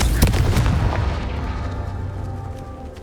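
A Confringo blasting spell bursts in the Hogwarts Legacy video game, a loud close booming explosion in the first second followed by a rumbling, fading roar of debris and low crackle.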